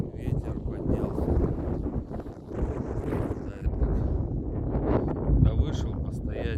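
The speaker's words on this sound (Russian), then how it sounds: "Ветер поднялся." Wind blows during a snowstorm at 4 a.m. on the road from Novy Urengoy to Nadym, roaring and buffeting the microphone in a steady, rough rush that swells and fades.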